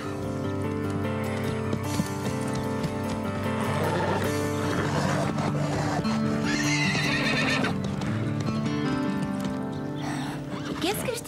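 A horse neighs and whinnies with clip-clopping hooves as its rider approaches a wall jump in an animated riding series, set against a steady bed of music.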